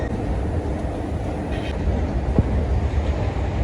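A train pulls into a Paris station with a steady, loud rumble of rolling rail cars, brief wheel clatter and one sharp clank near the end, no voices.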